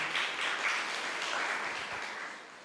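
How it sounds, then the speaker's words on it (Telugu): Crowd applause from a church congregation at an anniversary service fills the room as a steady wash of many clapping hands that gradually tapers off toward the end. "తెలుసుకుంటే చప్పట్లతో స్తోత్రం చేయండి"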